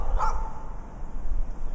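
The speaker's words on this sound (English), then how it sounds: "dogs right there" Dogs bark near railroad tracks in a snowy residential area, a single short bark close by over steady outdoor background noise.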